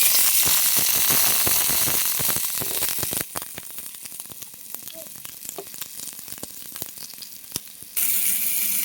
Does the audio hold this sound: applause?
no